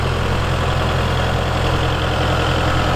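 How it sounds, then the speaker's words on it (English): A Kubota MX5200 tractor engine idles steadily on a farm, a close, even diesel rumble with a faint rhythmic knock and no voices. "Super quick with a tractor, not so much if you have to pull it. So, and it's a Kubota MX 5200."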